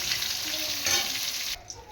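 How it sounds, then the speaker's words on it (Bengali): Pointed gourd (potol) frying in oil, a bright, steady sizzle that cuts off abruptly partway through, leaving a quieter pause with a faint clink, no talking. "ওদিকে আমার পটলও ভাজা হয়ে গেছে, এবার তুলে ফেলছি।"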